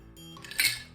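A mixed rum cocktail is poured into a chilled glass. The pour brings a brief bright splash and clink near the end of one short second, close and clear. No one speaks.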